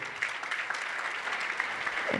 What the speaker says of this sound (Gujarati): જોરથી તાળી થઈ જાય